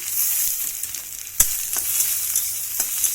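Browned onion and chopped tomato frying in a pan, a steady close hiss of sizzling oil with a few sharp clinks and stirring knocks.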